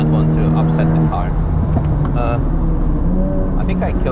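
Honda Civic Type R FK8 engine droning steadily at a climb on the Nürburgring, loud and close with short-shifted gear changes marked by pitch drops, under someone talking throughout.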